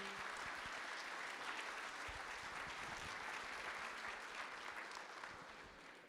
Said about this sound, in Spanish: Aplauso.